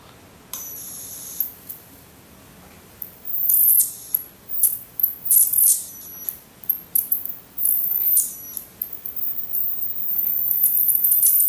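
A flyback transformer running on a 12-volt battery arcs, producing sharp, crackling electrical snaps in irregular bursts, then a sustained buzzing crackle, close and fairly loud with no talk.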